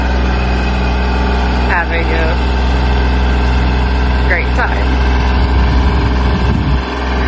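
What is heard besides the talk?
tractor engine idling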